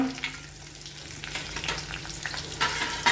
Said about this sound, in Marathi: आता याच्यामध्ये मी टाकणार आहे मिरच्या